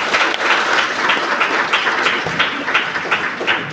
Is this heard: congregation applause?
yes